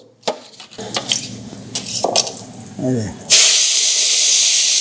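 Tomato slices drop into hot oil in a kadai and erupt into a loud, steady sizzle that takes over after a few seconds of clatter, handling noises and a voice.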